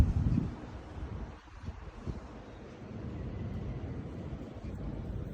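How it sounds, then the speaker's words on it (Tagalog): Wind buffets the microphone on a rooftop in low, uneven gusts, with a stronger rush at the start and a steady blustery rumble after. "Mahangin naman eh."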